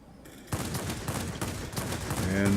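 Aircraft cannon fire with 30 mm high explosive rounds in a combat flight game with a MiG-9 jet, a rapid steady stream of thudding shots starting abruptly and running to the end under engine roar.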